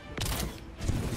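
Gunfire in the Final Fantasy XV Monster of the Deep VR game, aimed at a sea monster, comes as a short burst of loud, close shots with mechanical clatter over about a second.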